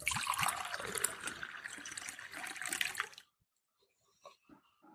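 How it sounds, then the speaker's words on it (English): A 330 ml bottle of IPA beer glugs and splashes into a glass in one continuous pour for about three seconds, then stops abruptly, leaving only a few faint drips and fizzing sounds. "So I'm going to pour it into a glass."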